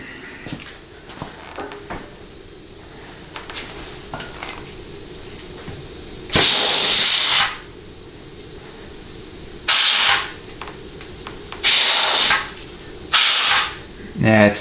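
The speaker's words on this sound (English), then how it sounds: "The whole boatload of air blowing out the back of it, but I mean, I think you can see and hear it" Compressed air hissing from a 4L80E automatic transmission during an air check, four loud, close bursts of roughly a second each, separated by quieter workshop handling noises and some talk.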